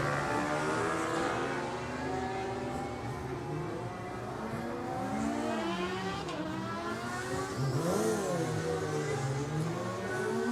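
A Yamaha road racing motorcycle at the Cookstown 100 races accelerates down a long straight, its engine note rising and falling through gear changes and sweeping past, loud against a steady background of crowd and ambient noise.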